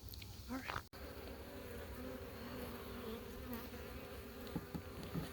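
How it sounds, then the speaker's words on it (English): Honey bees buzz steadily inside an open beehive above the queen excluder, a dense, close hum that carries on throughout, with a brief knock near the start. "Lots of bees here above the queen excluder."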